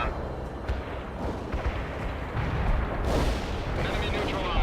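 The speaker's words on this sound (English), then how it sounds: "Artillery barrage turned the target area into dust." In the video game World in Conflict, an artillery barrage pounds the target area with dense, rumbling blasts that overlap into a continuous roar, swelling louder toward the end.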